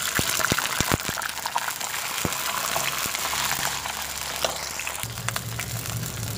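Peeled garlic cloves hiss and sizzle in hot oil for garlic kuzhambu, a steady dense frying crackle with a few sharp pops and spatters throughout.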